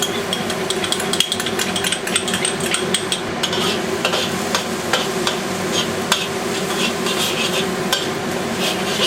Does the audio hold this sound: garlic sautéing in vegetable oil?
yes